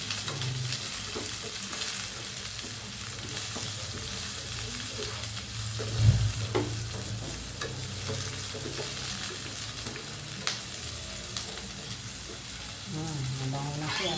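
Onion and garlic sautéing in a pan, a constant hissing sizzle with occasional stirring scrapes and a thump near the middle, close and fairly soft, with faint speech in the background.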